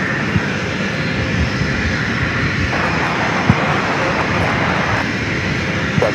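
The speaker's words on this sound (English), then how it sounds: "This Southwest flight heading to Oakland, flight 440, 737 MAX 8." A Southwest Boeing 737 MAX 8 jet roars steadily during its takeoff roll at San Diego airport, a loud, continuous engine rumble and hiss with no talk over it.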